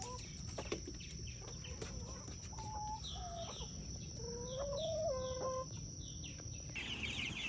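Meat birds and young chickens on pasture, several soft clucks and rising chirps near the middle over a steady outdoor hiss and low rumble.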